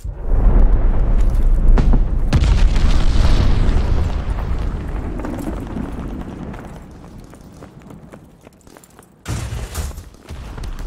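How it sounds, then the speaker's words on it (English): A glide bomb detonates in the shooter Call of Duty: Vanguard, a loud, sustained explosive roar that rolls and crackles for several seconds before fading, followed by another sharp burst of blast noise. "glide bomb incoming."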